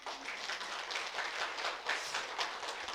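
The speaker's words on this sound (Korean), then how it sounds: "박수로 하나님께 영광." A church congregation breaks into sustained applause during a Korean Sunday sermon, dense steady clapping filling the room at moderate loudness with no talk over it.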